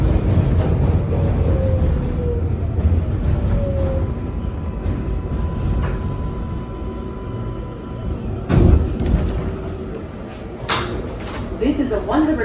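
An NYC Subway R142A 4 train rides along with a continuous loud rumbling roar, rattling and squealing tones, and a few clanks and bangs, while an automated announcement voice speaks over it.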